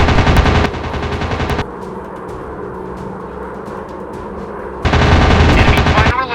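Rapid machine-gun fire from WWII fighter planes in an aerial dogfight video game, in two loud sustained bursts at the start and near the end, with a lower drone of engines and battle noise between them.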